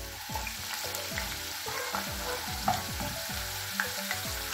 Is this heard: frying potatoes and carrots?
yes